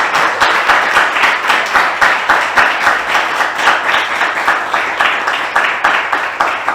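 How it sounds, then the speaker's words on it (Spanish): Audience at an author event applauds steadily after a book presentation, a dense, even wash of many hands clapping with a rhythmic pulse throughout, close and loud, with no talking. "Un aplauso muy fuerte para Sanidad"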